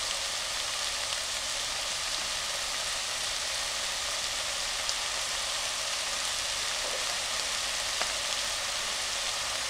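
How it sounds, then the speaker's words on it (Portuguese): Sliced chouriço sausage sautéing in a pan as its fat renders out, an even, constant hiss of frying heard up close with a few tiny pops, no voices. "Vamos agora refogar aqui um bocadinho."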